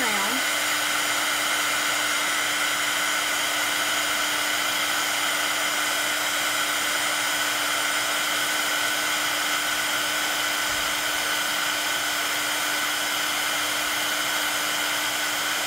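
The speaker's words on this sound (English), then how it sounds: "I'm gonna heat up with my heat tool just to get this heated first." A heat tool for heat embossing blows continuously at a steady, close hiss with a constant whine, running alone without a break.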